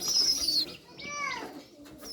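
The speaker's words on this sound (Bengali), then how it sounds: "দেখুন 4টা ঘুঘু এবং 2টা কবুতর।" Doves and pigeons coo close by, a few soft throaty rolling calls following a brief higher chirp.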